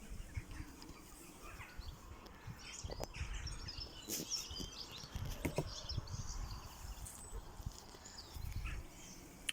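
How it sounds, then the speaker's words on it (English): Scattered bird chirps and calls sound faintly outdoors over a steady wash of background noise, with occasional rustling knocks up close. "Can you hear the birds?"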